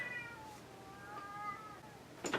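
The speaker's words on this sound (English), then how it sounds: "Whiny kitty." A whiny cat meows twice, drawn-out plaintive cries nearby in a quiet room, followed by a brief scuffing noise.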